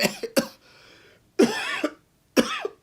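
Four or five close, harsh coughs come in quick bursts, separated by brief pauses.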